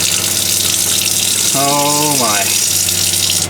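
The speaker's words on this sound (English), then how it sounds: "Hear the pump going." A boat's fresh water pump hums steadily and water gushes loudly, with a brief exclaiming voice over it partway through.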